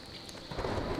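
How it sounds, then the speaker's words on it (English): A rainstorm with thunder in the survival video game Smalland: Survive the Wilds: a soft hiss of rain that swells into a low, rumbling roll over about a second. "It's raining."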